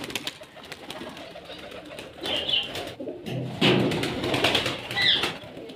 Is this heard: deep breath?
no